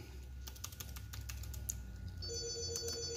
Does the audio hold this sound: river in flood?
no